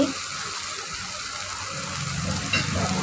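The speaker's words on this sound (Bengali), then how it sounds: "সামান্য পরিমাণে সয়া সস এটা আমরা পরিমাণ মতো দিচ্ছি" Soy sauce going into a hot pan of momo filling hisses and sizzles steadily, with a brief splashy surge near the end, close and fairly loud, with no talking.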